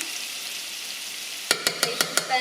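Minced garlic sizzles in melted oil as a soft steady hiss, then five sharp rhythmic taps of a utensil against the pan ring out close by near the end.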